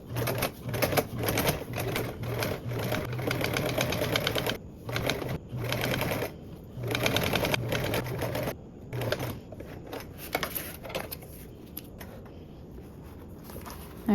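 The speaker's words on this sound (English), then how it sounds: "I'm gonna top stitch with a 1/8 seam allowance" A sewing machine top stitches a duffle bag panel, running in repeated close bursts of rapid stitching with brief stops, then fading to softer, intermittent handling at the end.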